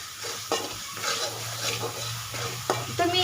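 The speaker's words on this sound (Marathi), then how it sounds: "मी तो घरगुती मसाला घालणार आहे त्यामध्ये." Homemade masala being stirred into matki bhaji frying in a pan, a steady sizzle under the scraping of a spoon against the pan, close and moderately loud.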